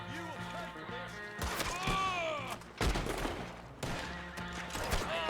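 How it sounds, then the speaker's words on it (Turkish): Gunfire in the video game Red Dead Online comes as a rapid fusillade of sharp shots and impacts, mixed with game effects. Someone talks over the shooting. "Bakın kaç tane vurdum adama adam hala düşmedi."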